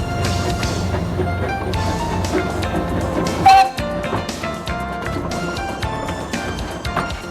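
Coal-burning steam locomotive built in Leeds in 1899 runs with a steady rumbling, clattering drive, and a brief whistle blast rises out of it midway before the running noise carries on.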